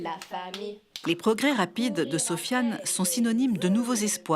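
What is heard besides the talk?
None of the usual background noises is heard.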